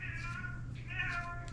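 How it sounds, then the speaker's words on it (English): A house cat on its nightly walk through the home gives a couple of drawn-out meows, close and clear, over a steady low hum. "She has a little routine where she walks the house meowing to make sure everyone is doing good"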